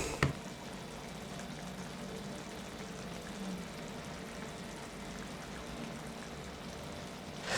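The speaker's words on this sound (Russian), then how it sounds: "И заливаю водой из чайника." Water is poured from a kettle into a pot of Chinese-style pork belly with hot pepper, a steady close stream that runs evenly for several seconds after a brief knock at the start.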